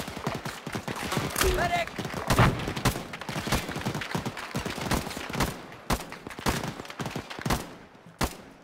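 Bursts of machine gun and rifle fire in an Arma 3 large-scale battle on Altis, sharp repeated cracks at varying distances with a brief shout over the shooting.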